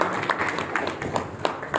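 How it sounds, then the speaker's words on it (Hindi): An audience at an eye camp and donor honour ceremony gives a short burst of scattered hand-clapping, uneven and fairly close, lasting under two seconds. "इनके लिए एक बार ताली बजा दें"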